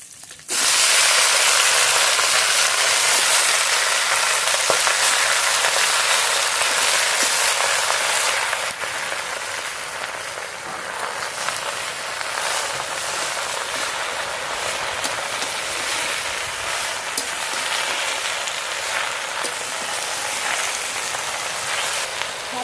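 Kochu (taro) greens with green chilies hitting hot oil, a loud, steady crackling sizzle that bursts in at the start, eases slightly after a few seconds and then hisses on evenly, with no talking.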